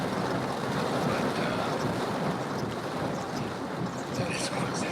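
Strong storm wind gusts buffet the microphone while chasing a tornado outbreak in Dixie Alley, a loud continuous roar with rumble and hiss that holds steady throughout.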